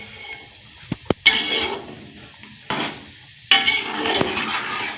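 Spoon scraping and clinking in a pot while chicken pulao with red chili and pulao spice mix is stirred, with a few sharp knocks followed by bursts of rasping, watery stirring, close and fairly loud.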